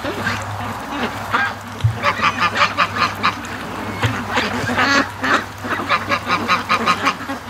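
Muscovy ducks give loud, close, repeated raspy honks and quacks in rapid bursts, over a steady low hum.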